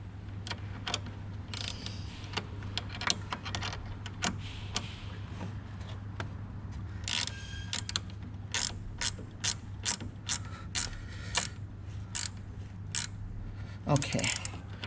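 Hand ratchet tightening a fastener while fitting a Tesla Model X electric frunk, a long series of quick close clicks in short bursts over a steady low hum.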